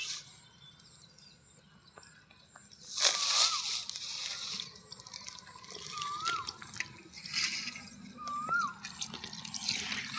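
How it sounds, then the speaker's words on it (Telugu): Fish are rinsed by hand in water, with faint sloshing and dripping that swell now and then, and a few bird calls carry in from outdoors. "చేపలు కడిగే పని ఇప్పుడు"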